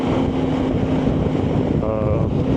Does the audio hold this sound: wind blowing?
yes